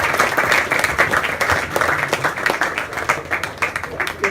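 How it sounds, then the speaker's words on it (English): A crowd at a meetup inside a shopping mall in Lonavala gives a strong, continuous round of applause, dense clapping with scattered voices mixed in. "So give them a round of applause."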